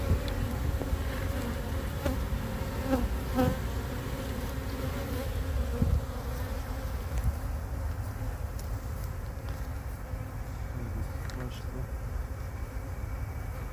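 Dense, steady buzzing of many honey bees close by at a hive frame, a continuous droning hum with occasional louder passes and faint handling noises.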